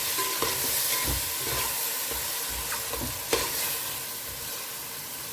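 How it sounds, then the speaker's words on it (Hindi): Marinated vegetables fry in hot oil while being stirred, giving a dense, steady sizzle close up with occasional scraping knocks of the spoon against the pan; no talking. "तो अब इसमें डालते हैं सब्जियाँ जो हमने मैरिनेट किया था ना, वो डाल देते हैं इसमें। अच्छे से मिक्स करना है 1 से 2 मिनट के लिए।"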